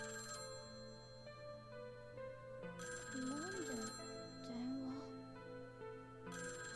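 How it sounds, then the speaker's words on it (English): A phone rings inside a classroom in a visual novel video game, a faint electronic ringtone repeating in bursts over a quiet steady background hum, with short stretches of voice between the rings. "why would I be hearing a ringing sound in here?"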